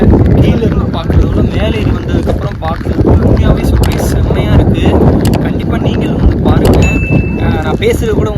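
Heavy wind buffets the microphone with a constant loud rumble on a hilltop near Valparai, while a person talks underneath it.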